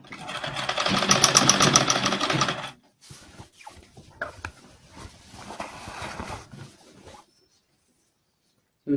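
A sewing machine stitches box pleats on a blouse, running in a fast rhythmic whir for about three seconds, then stopping, followed by shorter intermittent bursts and handling noises.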